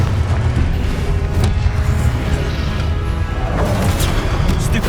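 Confringo fire spells explode in a Hogwarts Legacy combat trial, a loud continuous barrage of booming blasts and crashes layered over game music.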